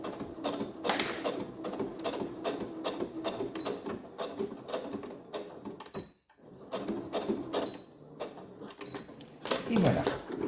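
A sewing machine stitches forward and then in reverse on a small fabric Christmas pouch, a loud, close, continuous mechanical whir that breaks off briefly midway before running again.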